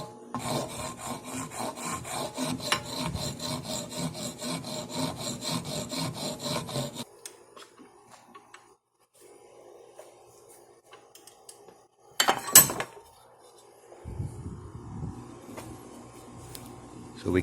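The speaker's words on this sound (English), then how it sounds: "So we keep polishing until it's done." An old-plank wooden knife handle is polished by hand with rapid rasping, rubbing strokes for several seconds, then quiet, then short bursts of scraping and rubbing resume.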